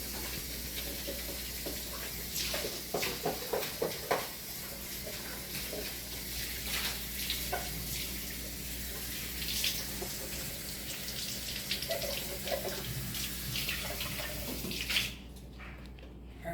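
Tap water runs in a steady, hissing stream into a sink while a part of a Magic Bullet Mini juicer is rinsed, with light clatters and splashes as it is handled.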